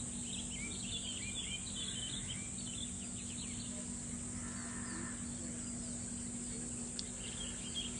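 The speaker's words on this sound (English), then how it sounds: "You can hear the birds chirping." Faint, high bird chirps scattered over a steady outdoor hum with insects buzzing in the background, in a mountain setting.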